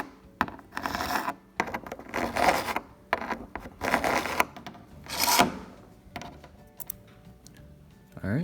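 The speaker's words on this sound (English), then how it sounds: "and I'll start filing" A metal file cuts slots into a key blank in short bursts of close, gritty scraping strokes separated by brief pauses, with some light metallic clicks and no talk.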